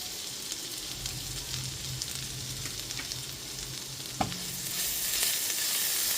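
Chopped garlic with ginger paste fries quietly in a pan, a soft steady sizzle with faint stirring taps, one sharper knock, then the hiss swells louder toward the end.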